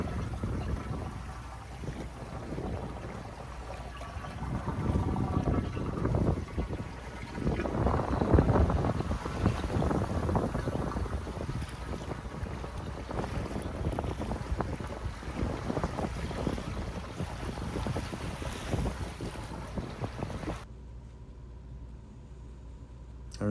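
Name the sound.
sailboat cruising in wind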